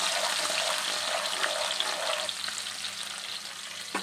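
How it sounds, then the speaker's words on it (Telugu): Chopped green chillies fry in hot oil for egg bhurji, giving a continuous bright sizzle close by, easing slightly toward the end, with a faint scrape near the finish. "ఇప్పుడు కట్ చేసి పెట్టుకున్న పచ్చిమిరపకాయ వేసుకుందాం. అది కొద్దిగా లైట్గా ఫ్రై అవ్వాలి."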